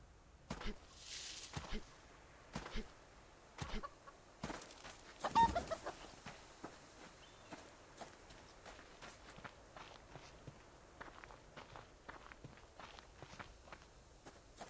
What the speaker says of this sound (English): I see a chicken.